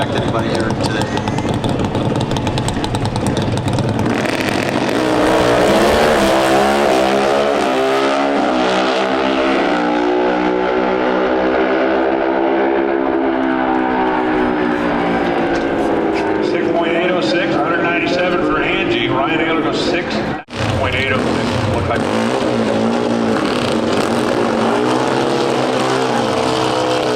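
Pro Stock drag racing motorcycle at the 2024 NHRA Route 66 Nationals in Chicago making a clean pass, a loud high-revving engine wail rising and sweeping through gear changes before fading, with a commentator talking over it.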